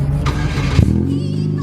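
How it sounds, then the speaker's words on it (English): A Chevrolet Cavalier with its muffler removed barks through a sharp rev under a steady idle, loud and close, while people talk and exclaim over it. "He's gonna give us a couple of revs maybe."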